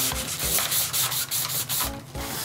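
Sandpaper rubbing back and forth over a small offcut of wood, test-coated with clear varnish, in a steady run of scratchy strokes with short pauses, close and fairly loud, with no talking.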